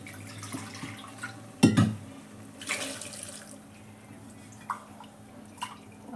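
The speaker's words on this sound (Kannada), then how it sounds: "ಲೀಟ್ರ್ ನೀರನ್ನ ಹಾಕ್ಬಿಡ್ತೀನಿ." About a litre of water poured into a pot of rasam with ground pepper and cumin, a short splashing burst followed by scattered drips and faint trickles in a quiet kitchen.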